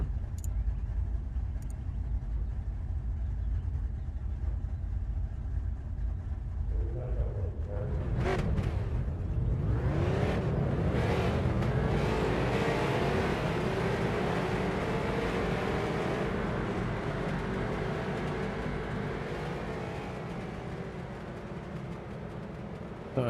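Street stock race cars in the iRacing simulator at Stafford Speedway, a nine-car field getting rolling: a steady engine drone swells as revving cars pass close by, then settles into a continuous broad roar that fades slightly toward the end.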